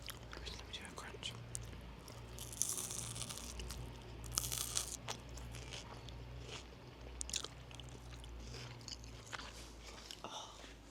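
Crunchy bites into a McDonald's Steakhouse Stack burger with onion, close and quiet, with wet chewing and soft crackles over a low hum and occasional whispery breaths.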